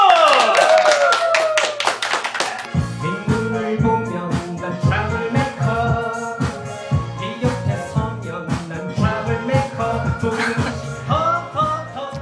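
A few rapid hand claps in a karaoke room are soon overtaken by a pop backing track with a thumping beat, and the music carries on to the end.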